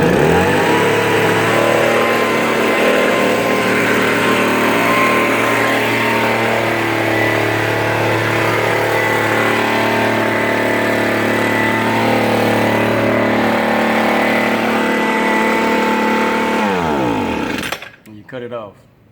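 A Homelite two-cycle gas blower engine runs loud and steady at close range with a buzzy, unchanging drone, then is cut off and dies away near the end.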